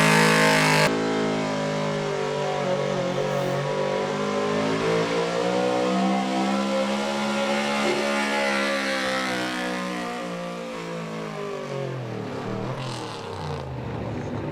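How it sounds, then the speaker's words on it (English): A hot rod diesel truck roars at a county fair truck pull while hauling the sled, its engine holding a loud sustained rev that climbs steadily, then drops off near the end. "We have Dave Millard hooking to the sled right now, the #1 truck in the class."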